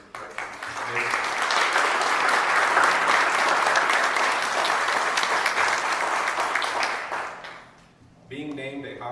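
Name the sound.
audience applause for physicians and staff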